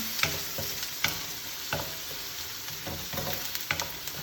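Garlic and diced white onions frying at high heat in a pan for shakshuka, with a soft steady sizzle broken by intermittent sharp taps and scrapes of stirring, fairly quiet and without talk.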